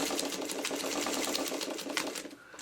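A sewing machine stitches through quilt fabric in a fast, steady mechanical patter of needle strokes. It is fairly quiet and close, and it slows briefly toward the end.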